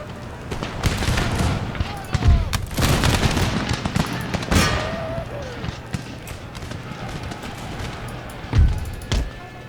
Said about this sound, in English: Come on, give them a volley.